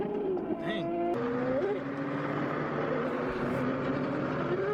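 Lexus with no bumper rolling past at night among street racing cars, a loud engine roar with a rising whine under a noisy crowd, someone talking nearby.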